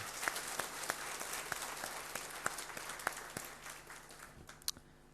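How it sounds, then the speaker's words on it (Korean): A church congregation claps during a Korean worship service, soft steady applause with individual sharp claps popping out at irregular intervals, fairly faint and tapering toward the end. "우리가 기쁜 마음으로 은혜가 되셨다면 박수 한번 치시겠습니까?"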